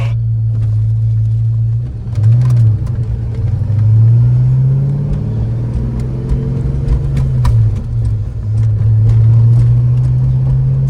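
A 1993 Ford Mustang SVT Cobra V8 engine drones loudly from inside the car on a test drive, its low rumble rising and falling as it accelerates through several gears.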